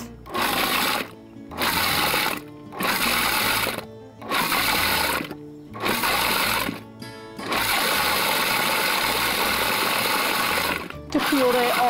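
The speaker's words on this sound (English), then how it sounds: "To puree all the ingredients together." A food processor purees the ingredients for za'atar chicken in short repeated pulses, each whirring burst separated by a pause, before one longer continuous run; close and fairly loud.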